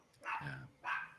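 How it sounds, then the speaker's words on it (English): A dog barks twice in the background, faint and somewhat distant, with a short gap between the two barks. "Sorry about the barking dog."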